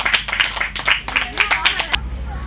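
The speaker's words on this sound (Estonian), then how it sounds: "alguses teeme suure aplausi minu abilistele" Audience at a Christmas gathering in Pelgulinna clapping for helpers, a short burst of individual claps with a rhythmic, close sound that stops abruptly near the end.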